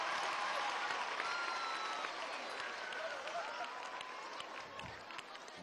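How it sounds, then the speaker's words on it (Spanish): An audience at a large public government event applauds, a steady wash of clapping that slowly fades over a few seconds, with faint crowd murmur and a voice briefly audible. "Un aplauso para Josner."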